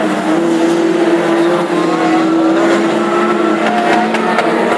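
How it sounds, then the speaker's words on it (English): A classic hot rod race car engine roars steadily at high revs while racing at Aldershot, with faint irregular backfire pops and crackles scattered through the drone; no voices. "Sounds like 210 Huey Weaver is backfiring a little bit as the drivers now begin to get a little spaced out in this race."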